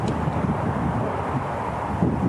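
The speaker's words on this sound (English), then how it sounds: "it's pretty windy today" Strong outdoor wind buffets the microphone near a roadside billboard, a continuous low rumbling roar with no talk over it.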